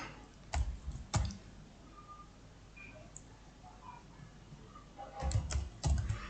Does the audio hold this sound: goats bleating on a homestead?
no